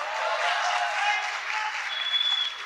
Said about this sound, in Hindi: तब तक तुम लोग तालियां बजा लो।